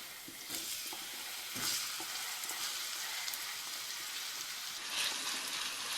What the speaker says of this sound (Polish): Cebulę będę smażyć do lekkiego zrumienienia.